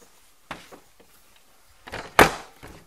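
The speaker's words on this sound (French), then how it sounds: "Je vais fermer la porte." A front door in a house is pushed shut. A soft knock comes first, then a sharp, close thud of the door closing near the end, with little else around it.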